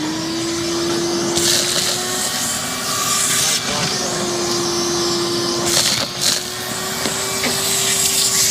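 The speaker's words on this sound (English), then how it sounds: "Can we get that shop vac hooked up and I'll just back it up out of here" A shop vac runs steadily with a constant droning whine throughout, loud and close, with brief bursts of rushing debris being sucked up and faint background voices.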